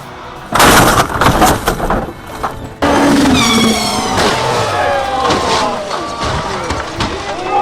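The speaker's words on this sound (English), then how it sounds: "The car skidded about 50 meters, sliding across the entire road and hitting 5 vehicles before coming to a stop." A rally car from a Polish racing team skids about 50 meters across a road and slams into five vehicles, loud rough crashing bursts giving way to sustained squealing tire whine and scraping over steady roaring noise.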